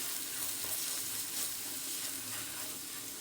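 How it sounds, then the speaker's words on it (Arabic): Potatoes with garlic, carrots and paprika sizzling in a pan while being stirred, a short, even, fairly quiet hiss of frying with a soft scrape underneath, no speech. "هنبدأ نقلب كل ده كده مع بعضه"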